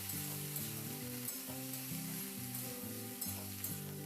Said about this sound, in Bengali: পেঁয়াজ কুলিটা দিয়ে আমি আবার আলুর সঙ্গে নাড়াচাড়া করে ভেজে নেবো